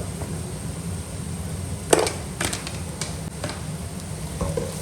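Onions with Kashmiri chilli and coriander powder are stirred in a pan over a soft sizzle, with a few sharp scraping strokes of the spoon standing out.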